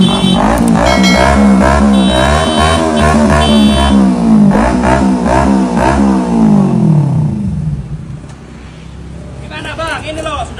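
Sport motorcycle, a Ninja, revving hard several times, its rising and falling engine note loud and close before dropping to a quieter idle, with talk over it.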